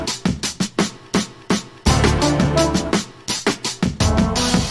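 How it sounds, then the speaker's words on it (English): Drum break sample from Cold Grits' "It's Your Thing", loud and funky, with crisp kick and snare hits in a syncopated pattern, then full band and bass joining midway under continued drums. "then we have the drum break, It's Your Thing by Cold Grits."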